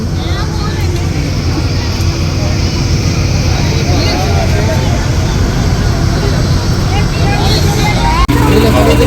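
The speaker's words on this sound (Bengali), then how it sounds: "এখন আমাদের লঞ্চ ছেড়ে দিল এই পারে আসার জন্য" A passenger launch boat pulls away from the jetty at Kanyakumari, its engine droning steadily and loudly at close range beneath a babble of passengers' voices, ending in a sharp knock.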